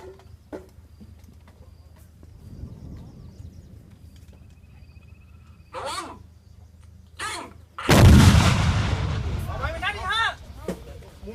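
Army artillery guns fire during a field battle exercise, with a sharp far boom, two more blasts and one heavy, roaring close shot that rings on, while soldiers shout and talk between the shots.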